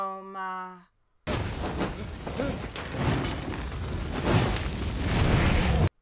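Roaring fire hurled in a fantasy battle from Harry Potter and the Deathly Hallows Part 2, a loud sustained whooshing rumble with booming surges that follows a brief musical tone and silence.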